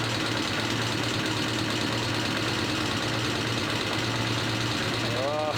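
A Suzuki RF900 motorcycle engine idles on its own without the choke, a continuous low rumbling throb that stays steady and close, with a voice speaking over it.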